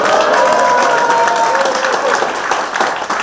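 A crowd at a Korean book-launch event applauds and cheers, a dense loud wash of clapping that carries on steadily with some voices mixed in.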